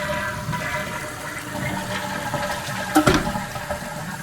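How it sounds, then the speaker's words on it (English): A household toilet in a bathroom flushes with a press-and-hold of the button, sending a little over a gallon of water rushing down to the sewer: close, steady gurgling wash with a brief louder surge near the end. "a little over a gallon of water and flushes it on down the sewer"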